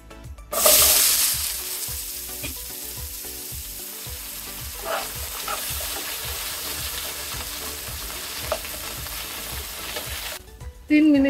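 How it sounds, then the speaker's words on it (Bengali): Potatoes hit oil already used for frying fish with a loud burst of sizzle, then settle into a steady close crackle with occasional spatters and stirring clicks before the sound cuts off near the end. "এবার মাছ ভাজার তেলে আমি আলুগুলো ভেজে নেব।"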